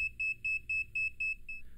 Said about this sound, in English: the NCV indicator will flash and the buzzer will beep.